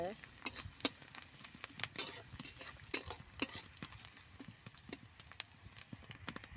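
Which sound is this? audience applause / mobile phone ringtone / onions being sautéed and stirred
onions being sautéed and stirred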